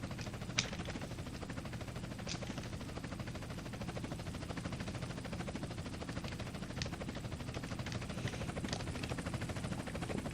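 Helicopter in the game Advance RP, a steady low rotor drone held through the whole stretch, with occasional brief sharp clicks on top and no talking.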